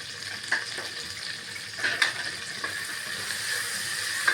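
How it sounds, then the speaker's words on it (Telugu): Coriander and curry leaves dropped into hot oil for pappu charu, sizzling steadily with a few sharp crackling bursts and the scrape of a stirring spoon, close and with no talking. "కొత్తిమీర, కరివేపాకు కూడా వేసుకోవాలి."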